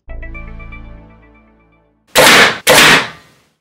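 A Thorn XV 125-grain broadhead arrow fired through a steel plate: a fading ringing tone from the plate, then two loud, harsh metallic impacts in quick succession, each a short burst separated by a brief gap.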